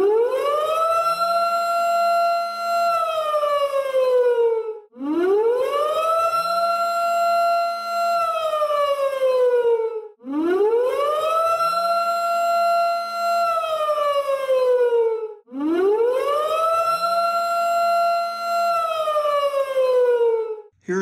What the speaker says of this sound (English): Here's what a tornado watch siren would sound like.